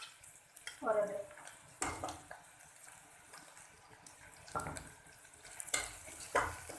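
Garlic and ginger stir-fry in a pan for an egg dish: a faint sizzle with scraping spoon strokes and a few clinks against the pan, soft and close.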